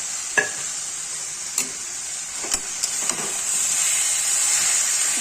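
Fried katla fish head dropped into cabbage in a pan, sizzling steadily with several sharp stirring knocks and scrapes early on, then a louder continuous hiss of frying.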